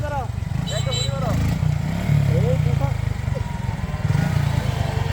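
A Suzuki Gixxer Monotone motorcycle engine idles and revs nearby during a wheelie attempt, with the low throbbing engine under several people talking.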